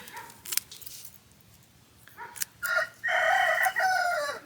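A rooster crows at a grandparents' rural home, a loud clear cock-a-doodle-doo rising near the end after a few faint earlier calls, with no talking over it.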